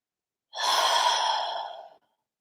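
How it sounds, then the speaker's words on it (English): A single slow, deep breath drawn in through the nose and released, close and clear in silence, lasting about a second and a half and tapering off gently. "Take a nice deep breath in through your nose. And let it go."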